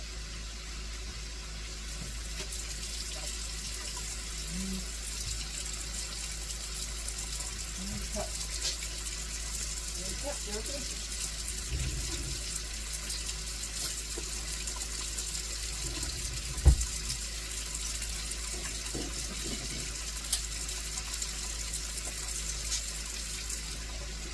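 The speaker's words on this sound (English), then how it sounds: "A little bit of water." Running water from a tap pours steadily into a slow cooker while pork tenderloin and vegetables cook, a continuous close splashing hiss with a faint voice in the background.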